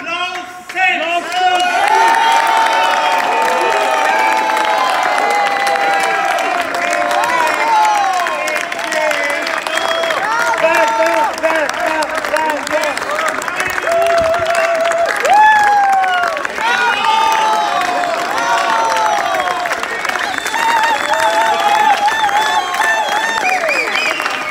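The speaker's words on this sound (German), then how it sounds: "Es ist der Jubel. Der Jubel! Der Jubel! Es ist der Applaus selbst!" Large audience applauding and cheering at the close of a speech at an 80th birthday celebration, a dense continuous roar of clapping with whoops and shouting voices throughout, loud and close.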